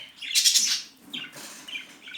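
Several bird chirps and short squawky calls in quick bursts, fairly close, with a faint low background rumble and no talking.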